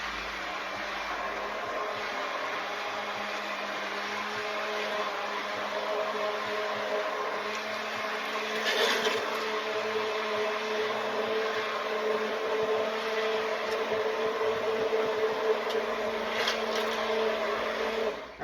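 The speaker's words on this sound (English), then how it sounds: "We're gonna take that back to our old friend, the burr mixer or the hand immersion blender, and we're gonna make this nice and smooth." A hand immersion blender purees a sauce with a loud, steady whirring drone that runs unbroken for the whole stretch, with slight surges in pitch as it works through the mixture and no voices.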